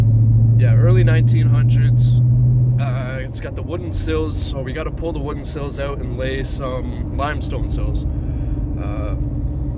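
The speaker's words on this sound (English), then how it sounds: "Sorry about the exhaust noise here." Loud exhaust drone from a vehicle while driving: a heavy, steady low rumble, strongest for the first few seconds and then easing slightly. Someone talks over it throughout.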